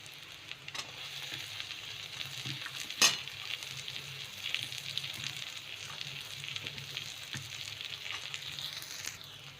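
Chopped onion and green peas sautéing in a pan for tawa pulao, a steady close sizzle and crackle with faint stirring scrapes and one sharp clack near the middle.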